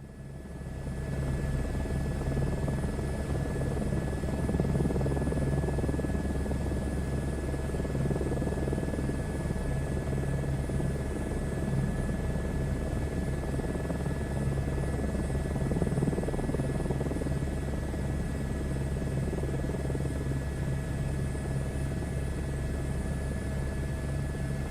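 A helicopter in Microsoft Flight Simulator drones steadily in flight. A constant engine and rotor hum holds at even loudness throughout, with a buzzy tone and no speech.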